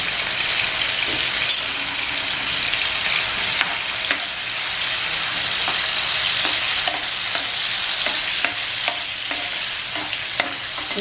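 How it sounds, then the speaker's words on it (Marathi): Prawns frying in lightly heated oil with turmeric powder added over a medium flame, giving a loud, steady sizzle and bubbling with occasional stirring clicks and no talking. "मग एकदम हलकं तेल गरम झालं त्याच्यातच आपण कोलंबी सोडलेली आहे आता याच्यात आहे ना मी हलद पावडर टाकते"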